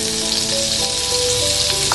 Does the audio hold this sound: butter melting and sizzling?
yes